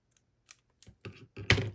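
Several short, crisp snips or clicks spaced unevenly, getting slightly louder toward the end, like scissors cutting paper close by with no talking.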